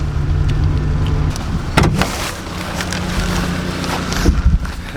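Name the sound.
car driving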